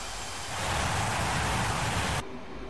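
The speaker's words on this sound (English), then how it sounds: "Though we are tickling the afterburner a touch." Roaring broadband jet noise from an F/A-18C Hornet with afterburner lightly engaged in the DCS World flight simulator, a steady loud rumble and hiss that cuts off abruptly near the end.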